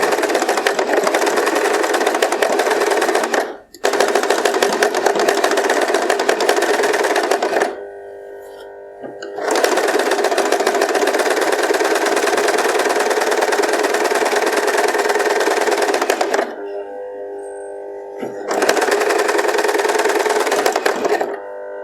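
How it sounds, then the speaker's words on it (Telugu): Sewing machine zigzag stitching a fall onto a saree, long loud bursts of fast rhythmic stitching broken by short pauses where the machine stops. "నీట్గా ఇదే విధంగా స్టిచ్ చేసుకుంటూ రావాలి."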